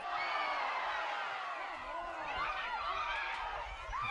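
A crowd in the stands at a high-school soccer semifinal, PIAA, reacting with a continuous roar of cheering and shouts, fairly far and dense, with a commentator talking over it.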